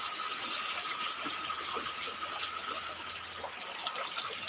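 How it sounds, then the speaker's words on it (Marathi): Heavy rain pours down in a village after a dry spell, a steady, even hiss of falling water with no voices. "आता इथं पावसाची धार पडली आहे"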